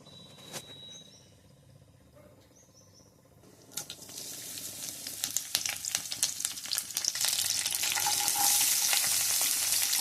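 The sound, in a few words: cinnamon, cloves and cardamom frying in oil in a kadai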